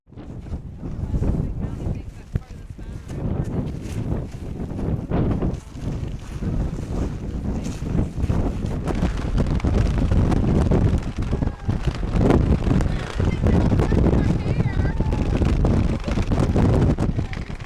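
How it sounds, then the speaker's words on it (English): Strong wind in Hawaii buffets the microphone in loud, continuous gusts, with faint voices partly buried beneath the roar. "It's pretty windy."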